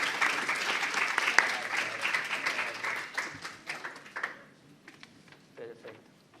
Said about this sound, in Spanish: Chicos, un aplauso.